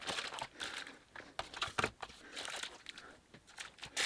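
Irregular crinkling and rustling of a plastic bag, close by, with sharp crackly bursts coming in quick uneven handfuls.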